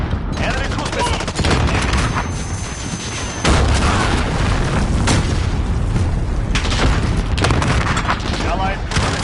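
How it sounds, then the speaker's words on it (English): Explosions and rapid gunfire in a Call of Duty match, loud continuous booms and bursts of shooting packed tightly together with heavy low rumble. "Enemy cruise missile."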